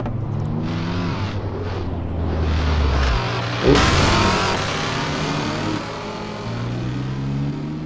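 A BMW M2 Competition engine revs in Assetto Corsa, rising and dropping through the gears, with loud close-up engine drone and a sharp peak of acceleration midway.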